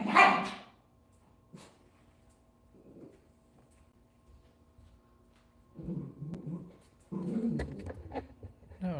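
Dachshunds bark in short sharp bursts, with one loud yap at the start, a few scattered yips, then a flurry of scuffling barks toward the end as the small dogs squabble nearby.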